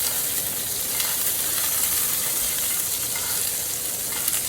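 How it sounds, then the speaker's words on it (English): Steak sizzling loudly in a pan as it is basted with butter, thyme and rosemary, a dense, continuous crackling hiss with spattering bursts, close and steady throughout with no voices. "And now what I'm gonna do is just baste it."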